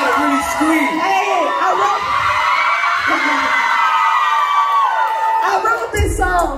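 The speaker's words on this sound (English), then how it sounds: "You guys gotta really scream." A concert crowd at a show screams, whoops and cheers loudly and continuously, with shrill yells rising over a dense wall of voices.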